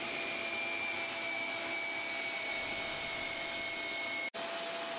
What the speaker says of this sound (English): I turn the angle of the sander as I move and remove the wood until I get a smooth transition.